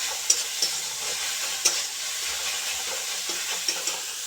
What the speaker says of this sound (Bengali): এটা একটু আমরা ফ্রাই হতে দিই।